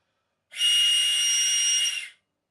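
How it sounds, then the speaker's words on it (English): A loud 3D-printed telescoping whistle, fully extended, gives one steady, piercing shrill tone lasting under two seconds, alone with no talk. "The volume of these whistles is incredible."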